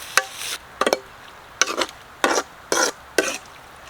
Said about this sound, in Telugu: శుభ్రంగా కడిగి పెట్టుకున్న బోటి వేస్తున్నా. గట్టిగా కలుపుకోండి.